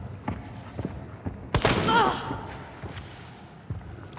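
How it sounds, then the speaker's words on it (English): A single loud burst of gunfire in a first-person shooter game, a sharp crack with a short decaying tail in the middle of the clip, surrounded by light thumps and footsteps, with voices talking quietly. "he just shot at me"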